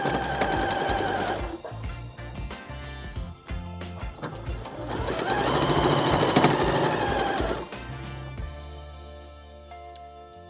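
A sewing machine runs in long bursts, stitching fabric 1 cm from the edge of a women's headband, its rapid motor whir rising and falling with brief pauses between runs and a small click near the end; no voices.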